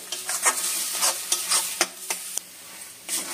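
Spices and green chilli are stirred and mixed in a frying pan for a paneer snack, with repeated close scraping strokes of a spoon over a gentle sizzle that pauses briefly and then returns, with no talk.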